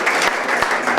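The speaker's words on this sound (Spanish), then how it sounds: "Y un fuerte aplauso para el maestro." A second of strong audience applause at a book presentation, dense clapping from many hands, close and loud without a break.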